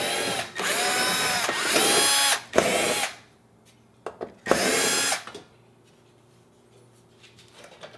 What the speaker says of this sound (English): I'm gonna remove 5 Phillips head screws so I can access the controls.